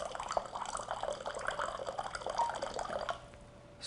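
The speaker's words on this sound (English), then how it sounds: "So I don't need to hold this button pressed, the water just keeps running." Cold alkaline water runs steadily from a KYK 707 hot and cold hydrogen water machine, making a soft, close trickle and splash that stops near the end.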